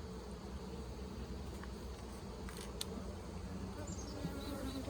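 A dense, continuous buzz of honeybees swarms around an open, strong hive. The drone stays close and even throughout, with no voices.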